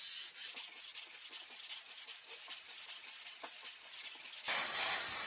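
Cast-iron jointer planes from a 1940s Delta jointer are rubbed dry across 400 grit abrasive paper in repeated strokes, a close, rasping, hissy scrubbing that runs steadily, then gives way to a brighter, harsher hiss near the end.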